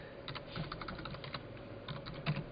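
A DOS command is typed on a computer keyboard, with a quick run of light, close key clicks in two bursts and no talk.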